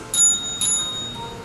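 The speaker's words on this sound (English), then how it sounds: "And we will ring the bells twice." Two clear, bright bell dings in quick succession at a high school English and Japanese presentation contest, each ringing out with a thin metallic shimmer that fades slowly in a quiet room.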